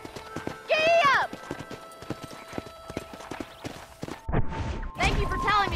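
A horse gallops with fast, clear clip-clopping hooves throughout, with a sharp whinny near the start and voices speaking loudly toward the end.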